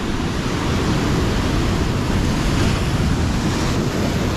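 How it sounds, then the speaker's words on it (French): Ocean waves break on the shore in a loud, continuous wash of surf, with buffeting wind noise on the microphone throughout. "Regardez la taille des vagues."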